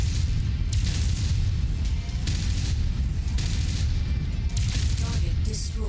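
A destroyed Hunchback mech explodes in the video game MechWarrior 5 with a heavy, rumbling blast, and booming, crackling debris keeps rolling loud and continuous the whole time.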